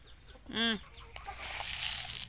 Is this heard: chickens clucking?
yes